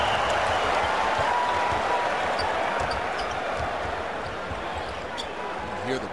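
A basketball arena crowd at a Wizards versus Lakers NBA game buzzes as a loud, dense murmur that swells and eases slightly, with an announcer's voice talking over it.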